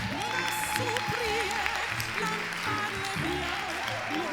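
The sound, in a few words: audience applause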